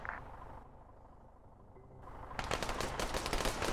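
Video game gunfire: a quiet lull, then a loud rapid burst of automatic shots firing continuously as a full magazine is emptied.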